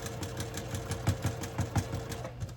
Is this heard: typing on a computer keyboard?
no